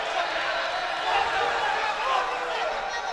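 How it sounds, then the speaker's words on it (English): A crowd chants steadily in an arena during a jiu-jitsu middleweight final, a broad, sustained roar of voices rising and falling slightly throughout. "Hear the crowd chant."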